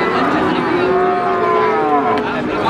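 Cattle moo loudly and continuously at a busy cattle market in Pati, Indonesia, with long drawn-out calls overlapping through steady crowd noise.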